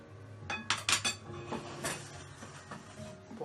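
Carbonara pasta is unmoulded from a mould: a quick cluster of bright metallic clinks and taps of utensils against dishware, close and fairly quiet, followed by softer scattered knocks.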